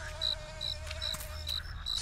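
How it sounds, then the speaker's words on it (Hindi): Flies buzz around the player in the horror video game The Cursed Forest, a steady near whine with short sharper passes sweeping in and out every fraction of a second, over low rumbling ambience and no talk. "मक्खी है यार यहाँ पे बहुत ज़्यादा"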